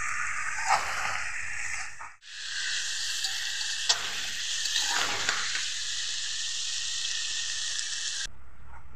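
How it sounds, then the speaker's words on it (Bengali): Winter vegetables including peas fry in a pan for a nine-vegetable khichuri, a loud steady broadband sizzle with brief stirring scrapes and a short pause near the middle. "এদিকে সবজি ভেজে নিচ্ছি"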